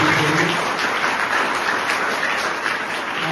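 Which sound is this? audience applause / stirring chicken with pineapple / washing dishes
audience applause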